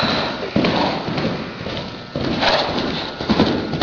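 Horse hooves thud and clop continuously over a dense, noisy game soundscape, with heavy footfalls and bumps throughout.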